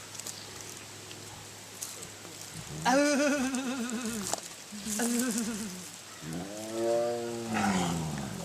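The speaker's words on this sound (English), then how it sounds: "That sound, that tiger whine" Three drawn-out, wavering tiger whines with a strained, groaning tone, each rising and falling, separated by short pauses over a faint background hiss, at a feline rescue center.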